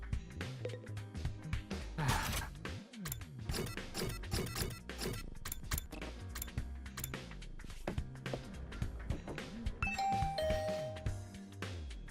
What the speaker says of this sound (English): I rang Nozomi's doorbell, but there was no answer.